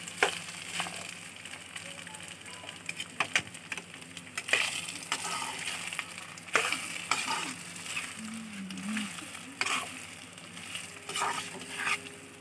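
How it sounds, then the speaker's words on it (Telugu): Food fries in oil in a pan, a close, continuous sizzle broken by scraping stirs and small clinks and taps against the pan. "నూనెలో కొంచెంసేపు ఫ్రై చేసుకోవాలి"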